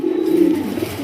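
A pigeon kept among birds for sale gives a single short, low, throaty coo, close and clear, with no talking.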